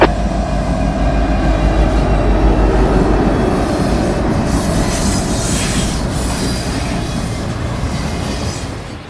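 A heavy stone freight train rolls steadily along the track nearby, a loud continuous rumble with wheel clatter and faint squeals, and no voices.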